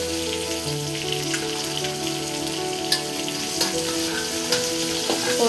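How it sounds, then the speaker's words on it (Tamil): Onion and capsicum sautéing in a pan for homemade chilli chicken, a continuous loud crackling sizzle with a few sharp pops, heard up close and alone without any voices. "வெங்காயமும் குடமிளகாய் இது ரெண்டுத்தையும் சேர்த்தே போட்டுக்கோங்க"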